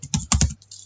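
A few quick keystrokes on a computer keyboard, close and crisp, in a short cluster of clicks followed by quiet.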